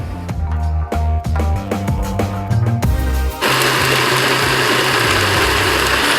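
A blender jug whirs through a chocolate superfood smoothie with hibiscus tea. It starts with a few stuttering motor pulses, then settles into a loud, steady, close roar.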